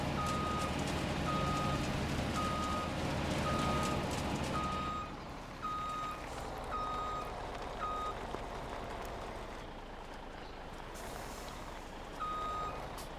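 An International truck in a farming video game sounds its reversing alarm as a regular series of evenly spaced beeps over a steady engine rumble, the beeps pausing midway and returning near the end.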